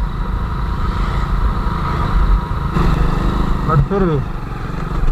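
An old Hero Splendor motorcycle engine running steadily nearby with a rough, throbbing note, while someone talks briefly over it.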